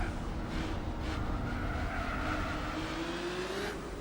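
A Castrol Supra race car in Gran Turismo 4 drives steadily, its engine holding a continuous drone with a rising pitch toward the end and faint tire noise, loud and up close with no talk.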